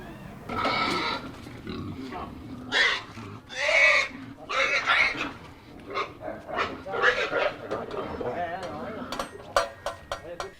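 Pigs being moved to a slaughterhouse, squealing and grunting in loud bursts, with people talking throughout over the animal noise.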